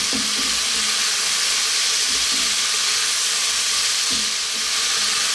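Onions stir-frying over high heat for a Chinese beef and broccoli dish, a steady loud sizzle filling the whole stretch with a few soft scraping stirs and no talking.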